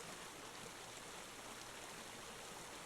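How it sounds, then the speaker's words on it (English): A flowing, lively river: a steady, even rush of moving water that fills the whole stretch at constant loudness, with no voices. "Now you can tell it's a flowing, lively river."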